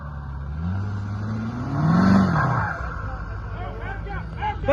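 A 1990 Ford 7.3 IDI diesel truck revved hard at full throttle, engine climbing to a loud peak then easing, with people's voices and shouting mixed in.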